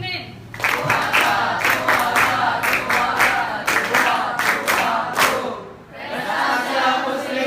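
A classroom full of students claps in a rhythmic group pattern of sharp, repeated bursts, with voices chanting along under the loud clapping.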